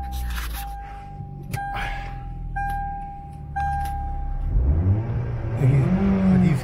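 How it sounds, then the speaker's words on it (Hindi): A running vehicle with a noisy exhaust silencer and a weak battery rumbles steadily, its engine swelling and revving toward the end, with intermittent beeping tones over the drone. "साइलेंसर इसका आवाज कर रहा है और बैटरी कोई डाउन सी लग रही है"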